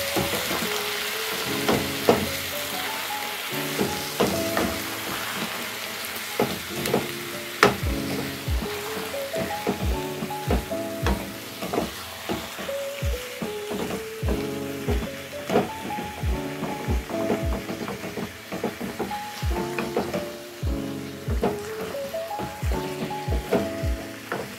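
Spicy chicken frying with tomato paste in a pan, a continuous close sizzle broken by frequent rhythmic scrapes and knocks of a spatula as it is stirred and turned, steady and moderately loud throughout.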